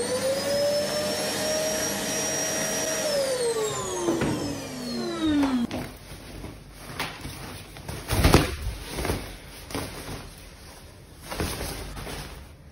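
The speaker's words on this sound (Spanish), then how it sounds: "Aspiradora." A vacuum cleaner runs loudly indoors, its motor whine steady then gliding down in pitch as it powers off, followed by a lower rumbling drone with some bumps and clatter.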